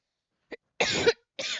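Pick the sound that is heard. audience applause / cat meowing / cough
cough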